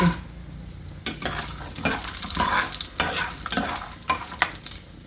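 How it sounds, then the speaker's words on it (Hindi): Walnuts fry in a pan, a steady dry sizzle broken by repeated stirring scrapes and clatters at an uneven rhythm, close and fairly loud with no voices. "अब डालने लगी हूँ ये 50 ग्राम अखरोट"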